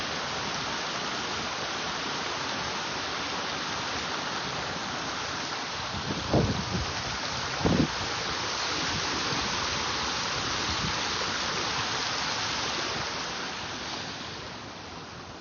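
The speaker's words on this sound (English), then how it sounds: "Let us experience a little bit of water." Steady rushing flow of water, continuous and fairly loud throughout, with two brief soft thumps midway and a gentle fade at the end, no voices.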